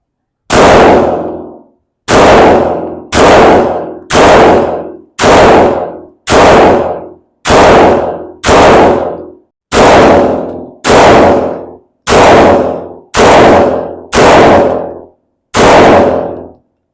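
Grand Power X-Calibur Match MK23 pistol firing about a dozen sharp, very loud shots at an uneven pace, each crack ringing briefly, close up with no talk between them.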